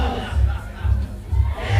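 A crowd at a bouldering competition roars and cheers for a climber in loud, rhythmic swells that rise and fall several times in quick succession.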